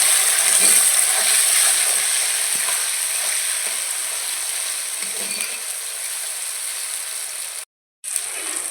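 Chopped tomatoes frying with browned onions give a loud, close, continuous sizzle that holds steady, broken once by a short silence before resuming.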